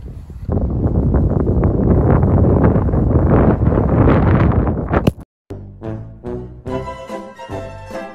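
Strong wind buffets the microphone on a golf course for about five seconds in a loud, roaring rush, then cuts off abruptly and gives way to brief tonal sounds.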